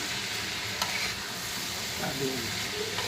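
Mushroom curry with coriander and cumin powder being sautéed in a pan, giving a continuous close sizzle with soft scraping of a stirring spoon and faint background voices.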